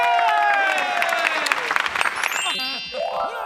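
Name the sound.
studio audience applause for two performers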